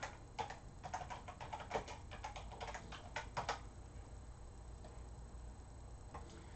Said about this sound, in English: Just type in biggest book.